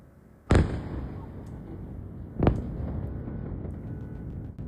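A ballistic missile launch in Ukraine: two sharp, loud blasts about two seconds apart, each followed by a sustained roaring rumble that lingers afterward.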